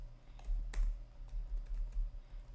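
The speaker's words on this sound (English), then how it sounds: "I'm typing so fast" Fast typing on a computer keyboard, close and fairly quiet, a quick irregular patter of key clicks with a few sharper strokes and no voices.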